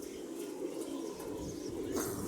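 A pigeon coos softly in low, rolling murmurs against faint background noise.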